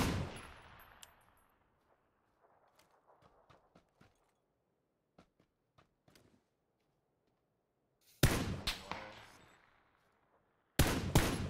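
Gunshots in a PUBG first-person squad match: a loud burst at the start, scattered faint clicks and footsteps in the middle, then two sharp close bursts of rapid fire near the end.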